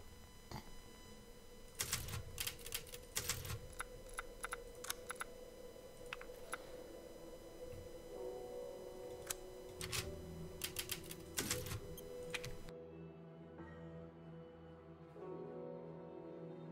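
In the Resident Evil Village video game, a typewriter sound effect clacks in irregular bursts of sharp keystrikes with pauses, moderately loud over a low humming game background, ending abruptly into near silence.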